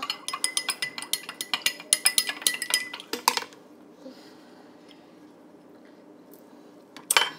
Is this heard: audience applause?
no